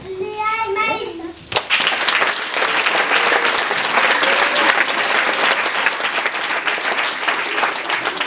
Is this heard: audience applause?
yes